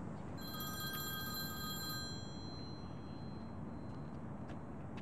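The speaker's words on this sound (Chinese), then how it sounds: "我先接个电话，你进去。" A telephone bell rings in a repeated electronic pattern for about two seconds, fairly clear over steady background noise, then stops.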